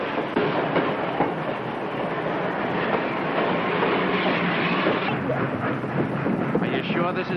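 A passing train rumbles and clatters loudly and continuously with wind noise, with people talking over it.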